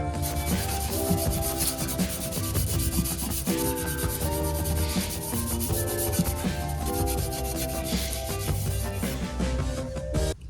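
Vigorous, continuous scrubbing on a custom BMW M5 E60 exhaust, a loud, close, gritty rubbing that runs without pause for about ten seconds, with no speech.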